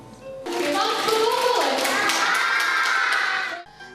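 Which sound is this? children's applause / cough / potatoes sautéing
children's applause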